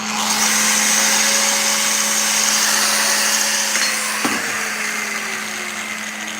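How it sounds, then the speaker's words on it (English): Cutoff tool grinding through a part on a Cub Cadet lawnmower deck, a loud, steady high-pitched whine with a harsh abrasive hiss that dips in pitch as the wheel bites, close and alone. "So let me just cut it off with the cutoff here."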